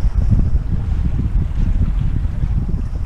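Strong wind buffets the microphone in a continuous low roar, gusting throughout with no voices, on the Northumberland Coastal Path between Cresswell and Warkworth.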